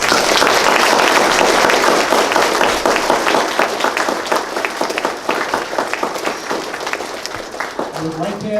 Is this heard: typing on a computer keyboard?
no